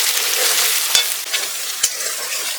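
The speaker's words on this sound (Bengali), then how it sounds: "এটা কষিয়ে নিতে হবে ভালোভাবে। নাড়তে থাকতে হবে ভালো করে এবার" Chicken and spices being stirred and fried for dum biryani, a steady close sizzle with a couple of sharp utensil knocks against the pot.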